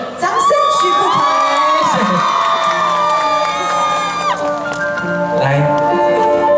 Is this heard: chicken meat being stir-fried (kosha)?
no